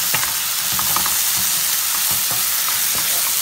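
Tomatoes sautéing in oil in a pan for an egg paniyaram kara kuzhambu, giving a steady loud sizzle and crackle with occasional stirring scrapes throughout.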